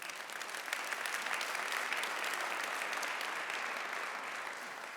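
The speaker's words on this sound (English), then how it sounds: "Can I get a round of applause for that story?" A conference audience at Guidewire Connections applauds a keynote with a large, continuous wash of clapping, steady and fairly loud from start to finish, with no talking over it.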